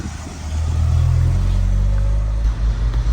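A VW Golf Cabrio engine runs close by with a deep, steady idle rumble that wavers and dips toward the end, as if the idle is unstable.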